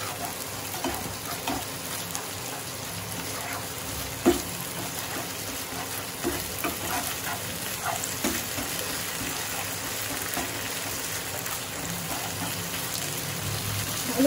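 Masala with poppy seed and cashew paste sizzles and fries steadily in a pan for egg korma, a dense, even crackle close by with no talk.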